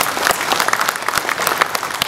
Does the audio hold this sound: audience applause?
yes